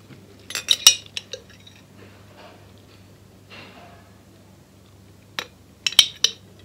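A metal spoon clinks against a bowl while stirring a natural fruit mix with African black soap, giving a few sharp, close chinks in two clusters with quiet scraping and a low steady hum between them.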